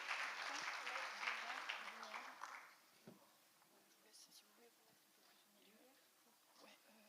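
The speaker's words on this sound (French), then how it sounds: "Vous pouvez les applaudir également" Brief applause from a small audience at a project presentation in a conference room, loud at first and then fading out after a few seconds into quiet murmuring and faint room noise.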